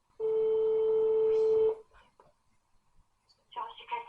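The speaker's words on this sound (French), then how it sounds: "Oh, ça sonne." On a call to a plastic surgery clinic, a single steady telephone ringing tone sounds close and clear, then cuts off into quiet line noise before a voice begins speaking.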